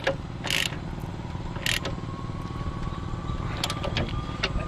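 Ratchet or wrench clicks while tightening blade spindle mounting bolts on a Troy-Bilt Pony lawn tractor mower deck, a few short metallic bursts over a steady low background hum.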